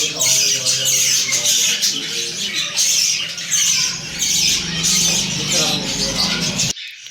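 Pet cockatiel and budgies squawking while eating millet seed indoors, a dense run of shrill close squawks and chatter with brief pauses, ending abruptly.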